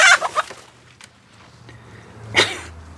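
A chicken lets out a few sharp squawks at the start, then a loud startled squawk follows after a quiet stretch, with faint background hum.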